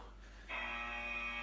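An interval timer buzzer sounds at the end of a HIIT workout round, a sudden sustained electronic buzz that begins partway through and holds steady, close and clear.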